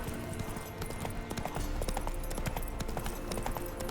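Roach, the horse in The Witcher 3, gallops with a rapid, rhythmic drumming of hooves, fairly close and steady over a low game ambience.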